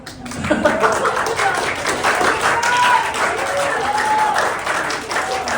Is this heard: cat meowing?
no